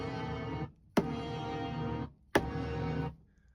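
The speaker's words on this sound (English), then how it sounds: "I've already uploaded 3 horn samples that sound like this" Three sustained horn-section samples triggered one after another from a Roland SPD-SX sampling pad, each a loud brassy tone lasting under a second, separated by brief sharp attacks and short gaps.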